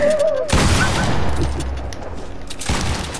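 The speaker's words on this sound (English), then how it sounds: "You be trying to shoot at me, bro." Loud gunfire bursts in a multiplayer shooter video game, a dense fusillade of shots with booming impacts that cuts out briefly, then returns, with faint game sounds under it.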